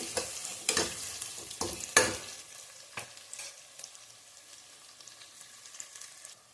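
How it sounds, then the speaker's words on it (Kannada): Onions frying in a pan over medium heat for tomato bath, a steady sizzle broken by several sharp stirring scrapes early on that fade into a quieter, continuous crackle. "ಈರುಳ್ಳಿ ಚೆನ್ನಾಗಿ ಫ್ರೈ ಮಾಡಬೇಕು. ಮೀಡಿಯಮ್ ಉರಿಯಲ್ಲಿ ಇಟ್ಕೊಳ್ಳಿ."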